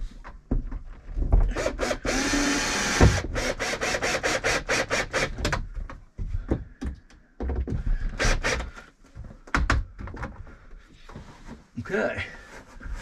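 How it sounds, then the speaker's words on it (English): A power drill whines in repeated short bursts, close by, drilling into the inner hull of a boat, with a longer continuous run near the start and pauses of rubbing and handling between. "I'm actually only drilling into the inner hull, not the outer hull"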